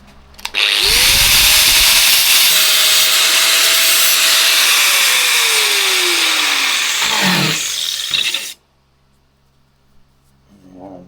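Power tool cutting off a section of a vehicle body panel during repair, a loud close whine that spins up, holds for several seconds, then winds down, followed by quiet handling noises.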